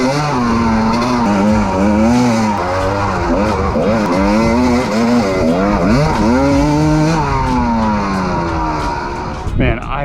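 Dirt bike engine revving and shifting up and down through gears on a ride at Rabbit Valley, loud and close throughout with steady throttle swells before easing off near the end.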